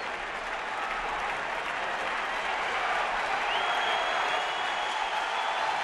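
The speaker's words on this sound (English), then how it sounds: "Early energy from this huge crowd." Cheering and applause roll steadily from a huge crowd at a Chicago baseball stadium during a White Sox–Cubs game, a dense, far-spread wash of sound holding at one level throughout with no talk over it.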